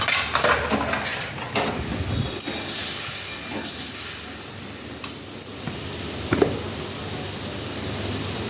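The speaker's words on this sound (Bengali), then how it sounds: "বাটির জলটাও দিয়ে দেবো ধুয়ে নিই।" Rinse water from a blender jar goes into a hot pan of spiced chhana curry. A steady loud sizzling hiss is heard close up, with small stirring clinks along the way.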